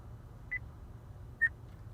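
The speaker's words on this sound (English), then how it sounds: "I do have to listen for the beeps." Two short electronic beeps from the voice navigation system of a 2017 Acura RLX, spaced about a second apart, with the second one louder. They sound clear and close over a low, steady cabin hum.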